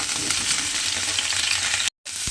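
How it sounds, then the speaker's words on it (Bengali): Potato and cauliflower pieces frying in a pan of oil, producing a loud, dense, continuous sizzle close up, broken by a brief silent gap near the end. "এবারে এই আলু আর ফুলকপিটা প্রথমে আমায় খুব ভালোভাবে একটু লাল করে ভেজে নিতে হবে।"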